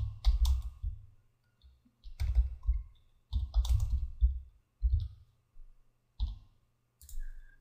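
A computer mouse clicks while folders are created, in quick pairs and short bursts of sharp, close clicks separated by brief silences.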